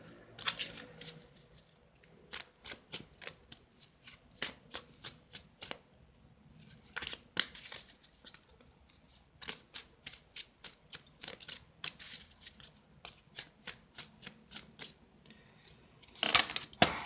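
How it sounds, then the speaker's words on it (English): Tarot cards being shuffled at length, a long run of quick riffling bursts repeating in an uneven rhythm, close and crisp, with a louder flurry at the end. "It's a very long shuffle."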